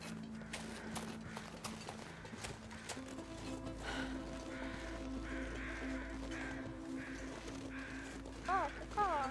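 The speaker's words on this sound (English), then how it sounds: "Yeah, some crows around him." Crows cawing around a bear in an outdoor setting, short harsh calls repeating at moderate distance amid steady background noise, with a louder burst of calls near the end and people talking over it.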